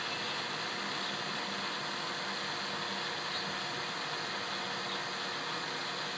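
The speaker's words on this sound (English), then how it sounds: "So we're going to let this pull a vacuum for about 10-15 minutes" A constant, even mechanical whir of a vacuum pump pulling a vacuum on a sealed refrigeration system, steady and unchanging throughout, moderately close with no voices.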